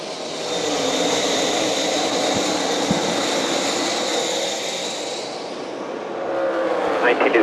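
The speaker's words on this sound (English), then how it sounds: "it's time to go racing. In NASCAR's Xfinity Series, off we go from Charlotte." NASCAR Xfinity Series race cars roar away at the start of the Alsco Uniforms 300 at Charlotte, a loud, sustained engine drone from the pack that swells again near the end.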